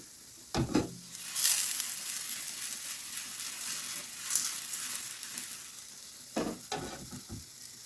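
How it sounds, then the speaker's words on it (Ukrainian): Soft, even sizzle of a potato-and-cheese cheburek (dough pastry) frying in oil in a pan, with a few utensil clinks and scrapes near the start and end. "Зараз смажиться другий."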